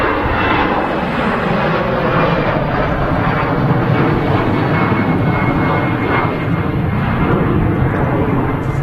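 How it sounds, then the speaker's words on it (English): EasyJet airliner coming in to land at Manchester Airport, a loud sustained engine roar that stays steady and close for several seconds, with no voices over it. "There goes the EasyJet."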